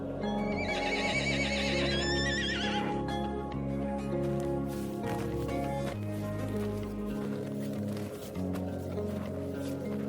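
A Mongolian horse, a small, stocky, heavy-boned breed, gives a loud, close whinny with quavering rises and falls early on, followed by softer rumbling movement and background sound.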